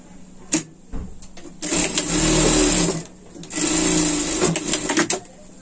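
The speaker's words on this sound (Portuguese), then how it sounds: "Vamos passar a costura aqui também" A sewing machine stitches a seam on a sling bag in two loud, close runs of steady rapid whirring, with brief clicks and handling noises before and between them.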